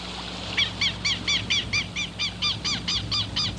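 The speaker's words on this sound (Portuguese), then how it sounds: "o quero-quero." Southern lapwing (quero-quero) giving a rapid series of about a dozen harsh, rhythmic calls over roughly three seconds, fairly near, over a low steady background hum in the Taim wetlands of southern Brazil.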